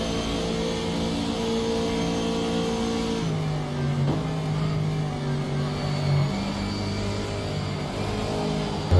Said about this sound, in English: I don't think I'm revving it to the full rev range.